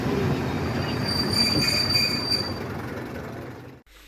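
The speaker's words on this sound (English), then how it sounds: "we caught the train on the return journey to Oxenhope" A heritage train on the Keighley and Worth Valley Railway runs toward Oxenhope with a steady loud rumble of wheels on track and high metallic squeals from the wheels, heard from inside the carriage, before the sound cuts off abruptly near the end.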